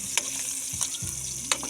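Vegetables hit hot oil in a frying pan for Kapampangan pakbet, giving a steady close sizzle broken by three sharp scraping clicks of stirring.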